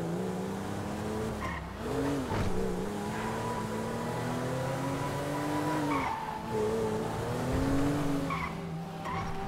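A car tears through city streets in Grand Theft Auto V, engine droning steadily with pitch swings as it shifts and accelerates, tires skidding and squealing through turns, loud and continuous with no talking.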